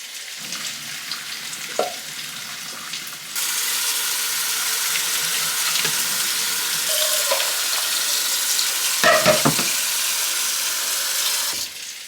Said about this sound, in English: we are going to strain it and then put it under cold water so that it stops the cooking